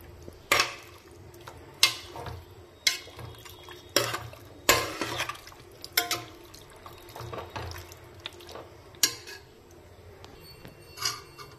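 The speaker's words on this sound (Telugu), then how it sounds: "ఇందులో ఇలా ఆయిల్ వేసాక బాగా కలపాలి. మటన్ అనేది ఆయిల్లో బాగా మనం ఫ్రై చేయాలండి." Mutton gets stirred in oil in a pan with a series of sharp, evenly spaced scraping and clattering strokes about once a second, each followed by a soft sizzle, close and fairly loud.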